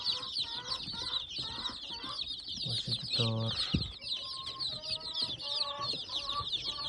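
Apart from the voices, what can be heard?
chicks and chickens clucking while eating feed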